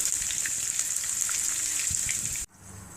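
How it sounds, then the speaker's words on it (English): Fish fries in hot oil for a coconut fish curry, a continuous bright sizzling hiss with small pops, close and steady, then abruptly drops to a quieter sizzle near the end. "Next we will fry our fish. It will only take 4 to 5 minutes each side."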